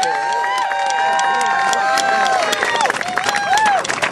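A peace rally crowd of students and supporters claps and cheers, with whoops, hubbub and crowd noise rising over the applause throughout.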